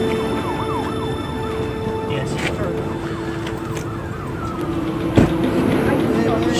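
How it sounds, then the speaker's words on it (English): An ambulance siren wails in a steady rising and falling pattern over traffic rumble at an opiate overdose scene, moderately distant and approaching, with a brief sharp knock near the end. "Here come the ambulance."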